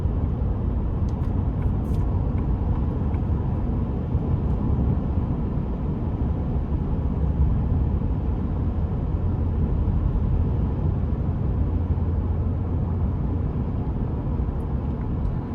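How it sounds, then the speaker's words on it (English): A 2026 Ford F-150 Lobo pickup drives in a relaxed mode, heard from the cabin as a steady, loud low rumble of engine and road noise that holds constant throughout with no revving. "it's very quiet as well because it's not trying to rev higher"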